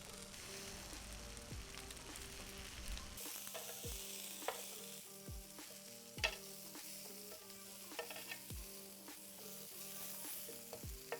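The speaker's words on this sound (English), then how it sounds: "now I have a grill pan that has been preheating, and let's place them onto there, and we're gonna grill them for about 2 to 3 minutes per side" Bok choy sizzles on a preheated grill pan, a dense crackling hiss that flares louder as pieces are laid down, then settles into steady frying with occasional sharp pops and tong clicks. No one speaks.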